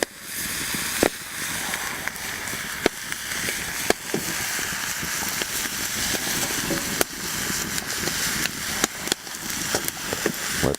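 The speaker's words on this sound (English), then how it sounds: "We'll just let those caramelize a bit, along with the" Onions caramelize beside browning ham in a Viking kettle, a loud, steady sizzle broken by frequent sharp crackles and pops, close up, with no talking.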